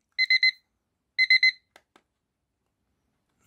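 An Acctim LCD projection clock's alarm gives two bursts of rapid triple electronic beeps, clear and close, then a couple of faint clicks and a thump of handling.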